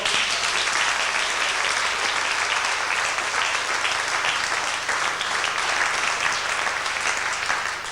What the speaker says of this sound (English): I'd like to give them all a round of applause